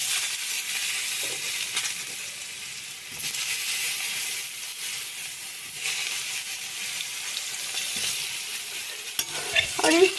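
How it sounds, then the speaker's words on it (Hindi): Eggplant frying in a little oil with black cumin seeds, a dense, even sizzle close by that holds steady throughout, with a few faint clinks near the end and no voices. "और इस बैगन को हम अच्छी तरह से फ्राई कर लेंगे"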